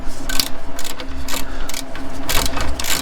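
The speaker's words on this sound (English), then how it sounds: "So I got my Harbor Freight extra long ratchet" Rapid repeated clicking of a Harbor Freight extra long ratchet during brake and valve cover gasket work on a Honda Civic, loud and close in quick bursts.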